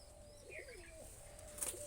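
Madrasi pigeons kept as breeding pairs in Nabadwip give soft, faint, distant coos, a thin wavering call over a quiet background with a brief brighter chirp near the end.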